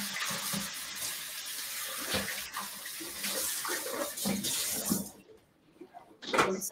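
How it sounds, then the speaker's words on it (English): Tap water runs steadily into a sink while a bowl is rinsed, a continuous close splashing rush that cuts off near the end, followed by a few brief clinks. "Rinse out my bowl."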